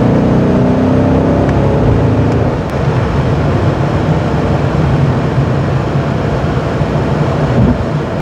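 BMW M850i Gran Coupe engine droning with a deep, low-pitched rumble under steady road and wind noise during a drive, loud and continuous with no talk.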